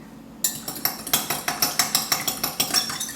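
An egg being whisked with a fork in a cup, quick regular clinking strokes of metal against the cup in an even rhythm, close and alone.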